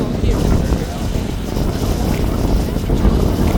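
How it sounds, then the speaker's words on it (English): Strong outdoor wind buffets the microphone as a loud, continuous broadband roar across the whole stretch, with talking partly audible beneath it. "Wow, it is windy."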